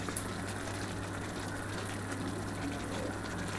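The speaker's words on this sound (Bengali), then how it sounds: "এর মধ্যে সামান্য অল্প একটু জল দিয়ে ঢেলে দিচ্ছি।" Water poured steadily into a pan of cooked pumpkin greens topped with poppy seed, a continuous close gushing wash with no talk over it.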